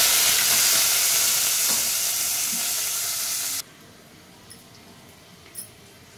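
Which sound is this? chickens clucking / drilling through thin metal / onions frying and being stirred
onions frying and being stirred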